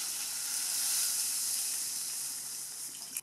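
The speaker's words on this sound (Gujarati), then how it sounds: "જે સાબુદાણા આપણે પલાળીને રાખ્યા હતા એને આપણે ઘીમાં ઉમેરી લેવાના, અને સાબુદાણાને ઘીની સાથે થોડા સાંતળી લેવાના છે." Soaked sago pearls sautéing in hot ghee give a steady, bright sizzle and hiss that holds evenly, with a small clink near the end and no talking.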